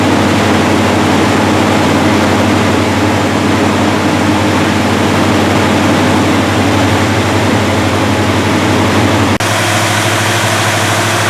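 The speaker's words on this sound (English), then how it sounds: "It's running on high idle on the choke right now." A 1978 GMC engine fitted with an Edelbrock carburetor runs on high choke idle, a steady, loud, close drone that holds constant throughout and shifts slightly in tone near the end.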